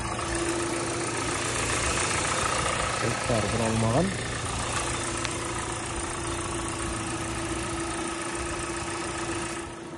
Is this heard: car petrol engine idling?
yes